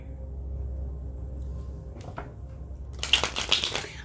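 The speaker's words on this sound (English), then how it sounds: "I'm just getting a nudge to shuffle a little bit more" After a low hum, a deck of cards is riffled and shuffled close by in quick crisp flutters near the end.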